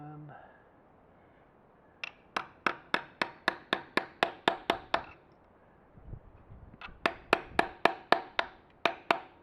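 Chisel tapping against a KLR motorcycle chain, two quick bursts of sharp metallic taps in a steady rhythm, close and crisp, separated by a short pause.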